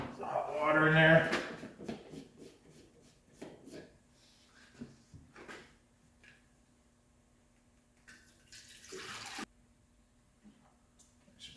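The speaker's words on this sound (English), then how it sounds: "Some hot water in there." Hot water pours into a container during a Porsche 911 engine teardown cleanup, a loud broadband rush in the opening second or so, followed by quieter clinks and handling noises with talk.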